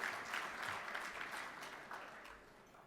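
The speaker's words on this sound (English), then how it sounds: "I want to give them a round of applause" Applause for the Chamber staff at a Miami Beach business awards luncheon, a steady round of clapping from an indoor crowd, fairly faint and lasting a few seconds.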